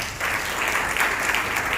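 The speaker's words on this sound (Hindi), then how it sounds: "जोरदार ताली बजाए" A church congregation claps loudly in unison during worship, dense rapid applause that stays close and steady throughout the brief stretch.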